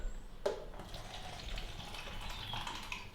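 Room temperature tap water running from a faucet, a steady close splashing flow that follows a brief knock at the start and continues with no talking.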